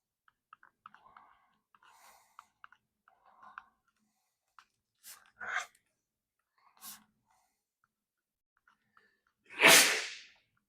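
A single loud sneeze bursts out near the end of a quiet stretch in a math lecture, after soft breaths, clicks and mouth noises.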